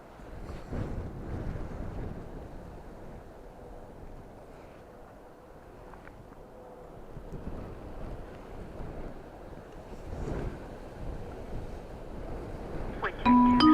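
Strong, gusty wind buffets an outdoor microphone at Dublin Airport during Storm Floris, a steady low roar swelling and easing in waves, with a few brief tones near the end.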